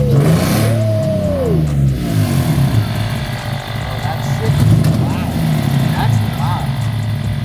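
An Infiniti G35 engine with a misfire and suspected cam trouble idles and revs loudly up close, a rough, uneven rumble that stays steady throughout while people talk over it.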